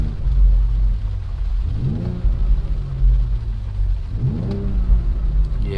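A 2020 BMW X3 M engine idles with a deep rumble, then gets two sharp throttle blips a couple of seconds apart, each revving up quickly and settling back to idle, loud and close.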